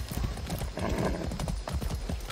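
A horse in the Far Cry 6 video game clip-clops with a rapid, steady hoof rhythm, close and continuous throughout.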